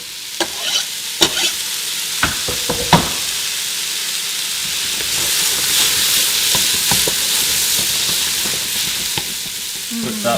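Garlic and ginger fry in a pan with softened vegetables for a lentil curry, a close, continuous sizzle broken by sharp scraping clicks of a stirring utensil early on, then a fuller hiss.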